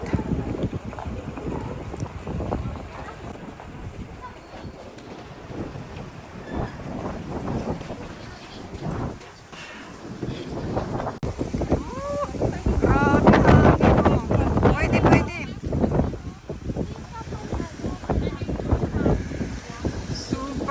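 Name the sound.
strong wind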